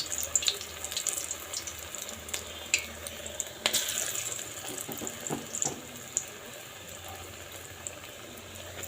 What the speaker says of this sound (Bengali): আমি এই যে বড়াগুলো এক এক করে ছেড়ে দিচ্ছি আর একবারে ভেজে তুলে নিয়ে আসি